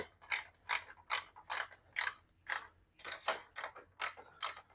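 A ratchet wrench snugs bolts to hand tightness while a condenser is replaced on a 2016 Jaguar XF, giving about a dozen brisk, even ratcheting strokes close up.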